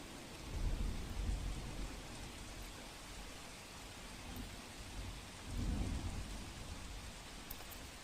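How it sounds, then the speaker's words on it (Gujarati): Unseasonal rain falls in Gujarat with a constant soft hiss, while two deep rolls of thunder swell at the start and again midway, both fairly distant and subdued. "કમોસમી વરસાદ જે પડી રહ્યો છે"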